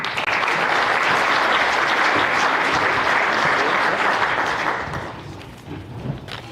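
Guests at a high school athletics senior awards banquet give the seniors a round of applause, dense sustained clapping from a full room that fades out after about five seconds, leaving a quieter murmur.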